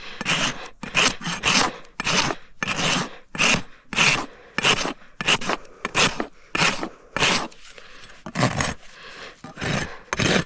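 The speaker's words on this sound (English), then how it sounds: "so I'm just bringing it down with the rasp" A farrier's rasp files down the heel of a horse's hoof in steady, repeated strokes, each a loud, close scraping rub with short pauses between.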